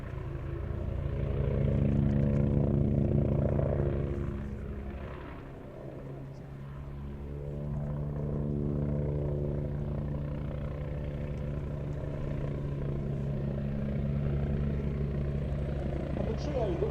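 A Westland Wasp helicopter in Royal Navy markings flies at the Fly Navy airshow at Shuttleworth, its steady, droning rotor and engine hum swelling and easing as it passes while a commentator speaks.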